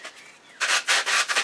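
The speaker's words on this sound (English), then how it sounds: "I've literally just got a piece of sandpaper." Rough, old sandpaper rubbed by hand over a wooden club, giving four loud, rhythmic scraping strokes after a quieter, softer rub at the start.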